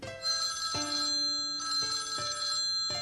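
A phone rings with a bright, repeating electronic bell tone, two long trilling bursts broken by short gaps, close and clear with no talk over it.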